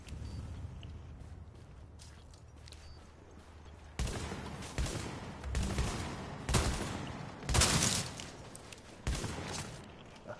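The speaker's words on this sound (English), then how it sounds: "when you hear gunshots, really, on the survival, the gunshots are real loud" Gunfire in The Division's Survival mode: distant muffled rumbling at first, then a series of loud, sharp bursts of shots about every second, with no talk.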